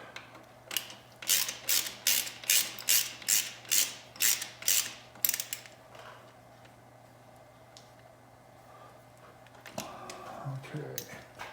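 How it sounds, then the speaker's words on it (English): A small ratchet wrench clicks in a quick run of about a dozen bursts while tightening a bolt during a KTM/Husqvarna/GasGas 300 two-stroke cylinder kit install, followed by quieter handling and a brief clatter. "Little ratchet."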